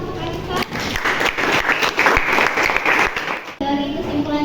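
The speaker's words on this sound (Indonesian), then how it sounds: "Boleh tepuk tangan untuk Anissa." Classmates clapping for a student named Anissa in a school agribusiness lesson, a loud patter of hands mixed with voices, cutting off abruptly before talk resumes.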